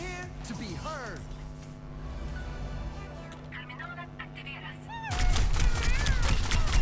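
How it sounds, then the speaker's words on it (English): Overwatch hero gunfire bursts out amid game effects and tonal ability sounds, with a heavy burst of shots arriving late, while a player talks over the gameplay. "His gunfire is kind of slow"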